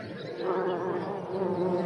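Honeybees buzzing around their hive, a dense steady hum of many wings swelling slightly in loudness, close and continuous with no voices.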